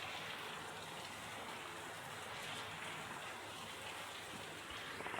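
Heavy rain pours steadily and without a break during a day-long downpour, a dense even hiss of drops on surfaces heard at a moderate distance, with no voices.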